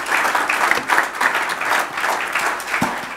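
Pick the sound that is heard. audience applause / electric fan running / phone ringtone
audience applause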